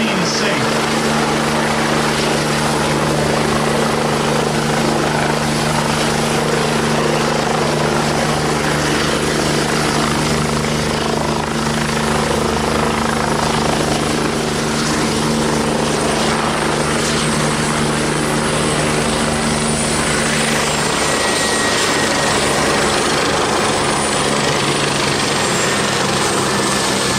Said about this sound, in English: We see this helicopter all the time.